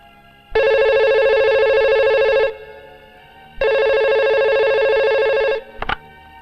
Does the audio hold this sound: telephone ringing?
yes